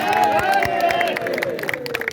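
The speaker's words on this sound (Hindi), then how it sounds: "चलिए ताली से स्वागत करिए" A crowd at a stage inauguration in Nepal, with police present, claps steadily in welcome. The applause is moderately loud and diffuse, and tonal voices or music run underneath.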